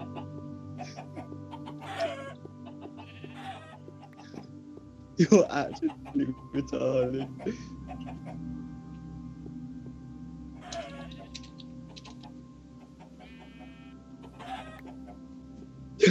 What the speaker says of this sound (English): There's chickens in the courthouse.